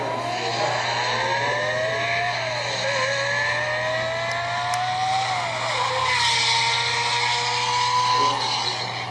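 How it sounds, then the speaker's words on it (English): Lamborghini Countach engine at high revs, a high-pitched sustained wail with rising and falling pitch like a racing car, loud and steady over a constant low hum for the whole stretch, with no talk. "we hardly hear a Countach at high revs, and it really sounded like a Grand Prix car"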